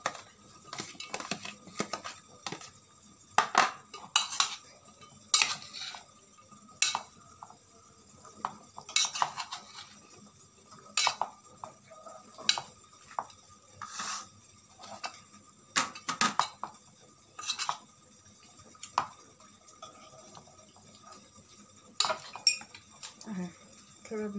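Cut oranges and lemons are tossed together in a metal pot, giving sparse, irregular clinks and knocks of a utensil against the pot in a quiet room, some strokes sharper than others.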